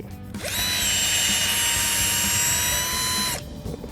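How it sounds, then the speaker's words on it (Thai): A power drill boring into the trunk of a Huang Hua Li rosewood tree growing among palm plantation rows, a sustained high whining grind lasting about three seconds that starts and stops abruptly. "ต้องเจาะไปเรื่อย ๆนะฮะ ต้องดูว่า แก่นในด้านใน"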